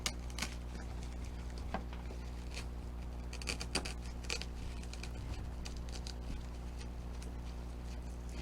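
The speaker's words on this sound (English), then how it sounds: "you can just take your scissors and trim the bottom a little bit" Scissors trim the bottom edge of a handmade Christmas craft piece, producing faint, irregular snips and clicks over a steady low hum, close and quiet with no talking.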